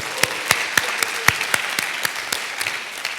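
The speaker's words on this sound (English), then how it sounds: "Big round of applause." An audience applauds at a start-up pitch competition during a global media festival, producing a broad hiss of many hands with sharp individual claps standing out at an irregular beat, fairly close and sustained throughout.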